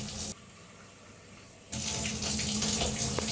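Tap water runs from a faucet to fill a kettle for a single cup of tea, a steady close rush that breaks off briefly, then resumes louder and fuller with splashing.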